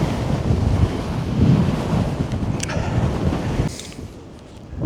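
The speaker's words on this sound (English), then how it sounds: "Very, very windy." Strong wind roars across the microphone in a continuous rush on the Scottish mountain Meall nan Tarmachan, easing noticeably near the end before picking up again.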